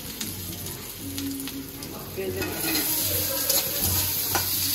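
Chilies and garlic fry in a pan with a constant crackling sizzle, joined by occasional stirring clinks, close and fairly quiet.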